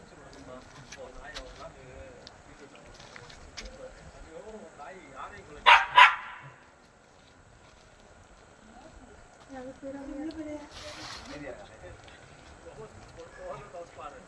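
A dog barks twice in quick succession, sharp and fairly close, against an otherwise quiet background with faint murmuring and rustling.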